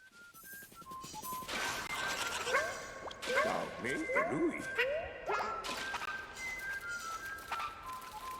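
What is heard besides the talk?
hermit crab whistling in Yoshi video game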